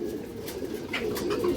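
Old-line domestic pigeons coo softly in a low, rolling murmur, close and steady with no voices.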